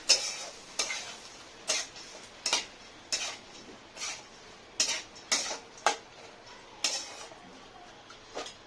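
A spoon scrapes and taps through matki bhaji, a sprouted moth bean curry, in a pan, making about a dozen evenly spaced close scrapes over a quiet background.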